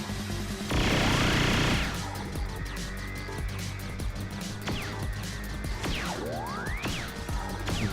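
A boss fires on the player in the Dreamcast run-and-gun game Gunlord, making repeated booming shots and blasts with sweeping synthetic zaps, dense and continuous throughout.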